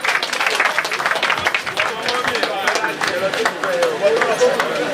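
A large crowd at the University of Ibadan inter-hall sports opening ceremony bursts into loud, sustained applause, dense overlapping claps mixed with cheering and crowd babble throughout.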